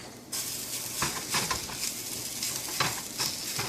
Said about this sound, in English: And it will start to sizzle a little bit.